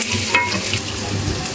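Pumpkin cooking in a pan is stirred with a utensil, giving a steady close sizzle and scraping swish throughout, with no talking.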